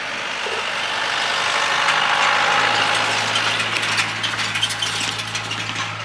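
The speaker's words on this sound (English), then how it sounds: "if you can hear that noise, my boss is out raking the field right now" A steady mid-pitched tractor engine drones continuously at a distance while raking hay in a field, with faint rattling and clatter rising toward the end.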